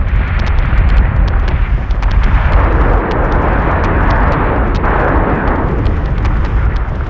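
Ship guns firing in the space combat game Battlestar Galactica Deadlock, a loud sustained barrage of booming explosions and rapid crackling bursts layered into a continuous roar.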